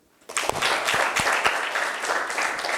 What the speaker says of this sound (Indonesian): Tepuk tangan buat dua orang ini.